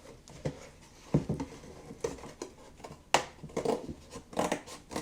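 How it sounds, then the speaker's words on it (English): Scissors snip through material for a homemade bird feeder in a series of close, uneven cuts with short pauses between, fairly quiet overall. "These scissors."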